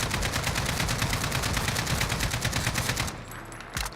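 Sustained automatic gunfire in Modern Warfare on console, a rapid unbroken burst of loud shots for about three seconds, then it stops with a faint clatter.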